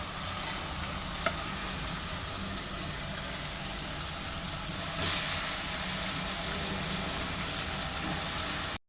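Eggplant frying in oil for Chettinad kuzhambu: steady sizzling, a continuous bright hiss with a couple of small clinks, fairly quiet and without voices.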